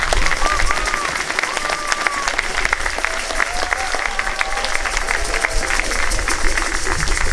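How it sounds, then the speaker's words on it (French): A church congregation at a closing mass for a pastoral visit claps loudly for the singers, a sustained, full round of applause from many people in a reverberant space with some voices mixed in. "Vous pouvez les applaudir très fort."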